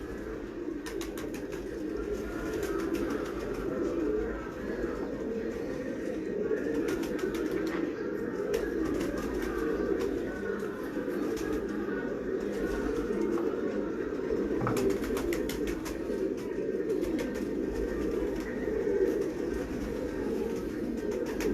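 Pigeons coo in a continuous low murmuring chorus, close and steady throughout, with occasional faint rustles and wing flutters.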